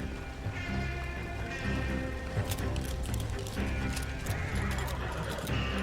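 Horses whinny in a video game amid a busy, continuous soundscape with clopping and background music, fairly loud throughout.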